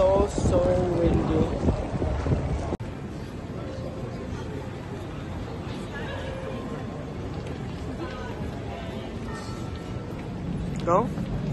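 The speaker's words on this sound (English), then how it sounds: "the wind is crazy" Strong wind buffets the microphone in a steady, heavy rumble throughout, with faint street sounds underneath from Rua Augusta in Portugal and a brief dropout partway through.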